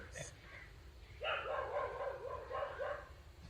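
A dog barks in a short run of yips and barks, moderately close, then falls quiet, over a low background hum.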